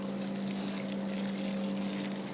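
A strong stream of water rushes continuously over plants in a home eggplant garden, a steady close splashing with a low motor-like hum beneath.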